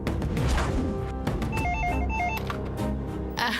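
A telephone rings during a Telugu TV serial scene, a repeating electronic ring pattern sounding over loud background music, with no talk.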